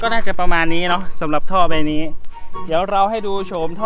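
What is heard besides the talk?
No everyday noise stands out behind the speech.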